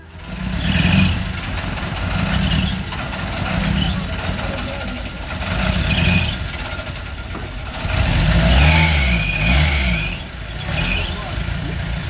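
A car's diesel engine, started after its glow plugs were preheated at a border in Iraqi Kurdistan, rumbles and revs in several swelling surges, close and fairly loud, while people talk over it.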